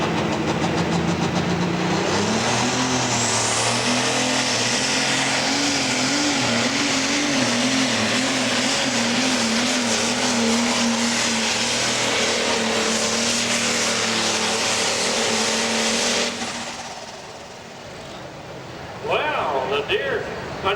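A John Deere pro stock pulling tractor roars under full load at a Mansfield, Ohio pull, its loud droning engine wavering in pitch for about sixteen seconds before cutting off, with an announcer talking over it.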